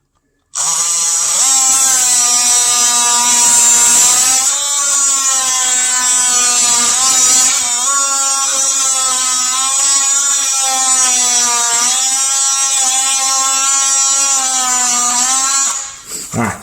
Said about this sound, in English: I'm going to put my blade flat and I'm going to undercut it.